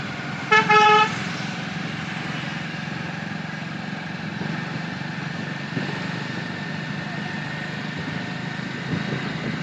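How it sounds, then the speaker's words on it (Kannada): A motorbike ridden through traffic, its engine a steady loud drone throughout, with a short car horn toot near the start and a constant rush of road and wind noise. "ನಾನು ನಮ್ಮ ರಾಘವ್ ಸರ್ ಬೈಕನ್ನು ನಾನು ಹಿಂಗಡೆ ಒಬ್ಬನೇ ಡ್ರೈವಿಂಗ್ ಮಾಡ್ತಾ ವಿಡಿಯೋ ಮಾಡ್ತಾ ಇರುವಂಥ ಕ್ಷಣವಿದು"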